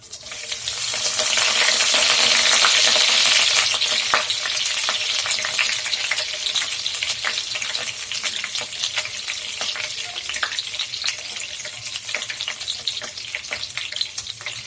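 Curry leaves hit hot oil for sundal with a loud, bright crackling burst that slowly settles into a steady close sizzle with scattered pops and spatters throughout.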